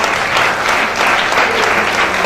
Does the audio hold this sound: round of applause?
yes